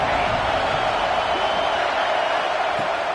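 A stadium crowd in the College Football 25 video game keeps up a dense, steady roar of cheering. It is loud and continuous throughout, with no clear peaks.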